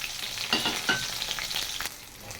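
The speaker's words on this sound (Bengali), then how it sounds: "তারপর আমি ভালো করে ভেজে নিয়েছি সমস্ত কিছু।" Chopped small onions and whole spices with chillies fry in hot oil, a steady broadband sizzle with a few brief stirring scrapes, close and fairly loud, no voices.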